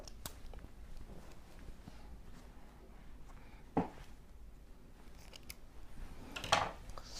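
Scissors snip through fabric for a baby pillowcase dress, quiet close cuts with two sharper, louder closing snips standing out against soft handling noise.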